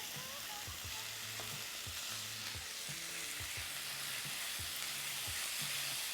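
Lobster pieces frying in olive oil in a hot skillet, giving a dense, steady hiss of sizzle with faint clinks and stirring knocks underneath, close up and continuous, no talking.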